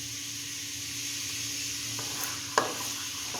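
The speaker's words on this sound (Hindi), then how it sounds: "प्याज को बहुत ही अच्छे तरीके से सौते कर रहे हैं" Onions sautéing in a pan while a spoon stirs them for pasta, a steady close sizzle with a sharp scrape of the spoon near the end.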